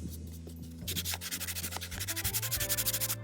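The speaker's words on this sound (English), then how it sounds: "just 80 grit sandpaper first" Coarse 80-grit sandpaper scrubbing a weathered, rough plastic chair handle, starting after a quiet moment and then going as steady rhythmic back-and-forth strokes, close and fairly loud, with no talking.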